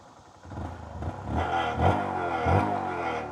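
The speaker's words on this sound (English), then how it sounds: "the engine is running smooth" A motorcycle engine idles on its own close by, with a low, steady, throbbing putter. A few heavier pulses and a light rattle, like a vibrating skid plate, sit over the even running.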